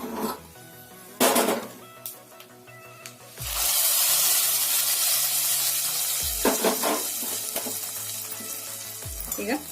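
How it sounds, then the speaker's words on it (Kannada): Spices sizzle and crackle in hot ghee for a bisibele bath tempering, loud and close, with bursts of stirring and pan scraping between steady frying hiss. "ತುಪ್ಪದಲ್ಲಿ ಚೆನ್ನಾಗಿ ಫ್ರೈ ಮಾಡಿ"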